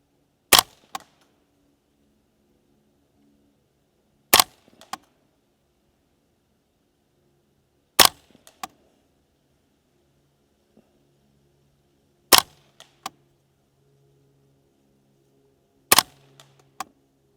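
Five sharp, crisp gunshots from a Savage A22 takedown rifle firing at a target, evenly spaced about four seconds apart with faint clicks and handling noise between, near and alone against a quiet background.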